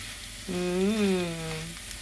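Sweet dried anchovies fry in a pan with sugar, a steady close sizzle running throughout while a sustained humming tone briefly rises over it.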